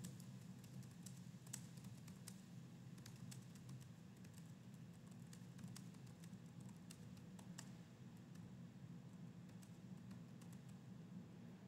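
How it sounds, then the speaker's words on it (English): Keystrokes on a computer keyboard, typed during Inkscape work, come as scattered, irregular soft clicks and short bursts over a steady low hum, faint and close, with no talking. "So I typed out the phrase that should go under aperture"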